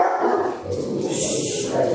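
Two or more dogs bark and yip close by during a live country line dance lesson indoors, several sharp barks breaking through the room noise within about two seconds.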